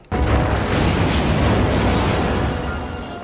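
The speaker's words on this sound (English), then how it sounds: "resulting in Jack sacrificing himself by blowing up the house" A loud, sudden explosion blows up a house in a film, bursting in abruptly and rolling on as a sustained, close roaring blast for about three seconds with no talking.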